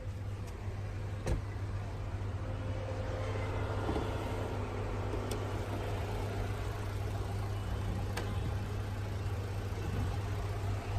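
A 2000cc inline four-cylinder Multijet 2 diesel engine idles in a 2022 Jeep Meridian Limited with the bonnet open, a steady low rumble and hum that holds throughout, close and unbroken, with no talking.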